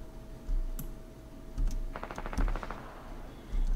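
A rapid burst of Fortnite gunfire rattles out in the middle, surrounded by dull thumps and keyboard clicks, fairly quiet overall.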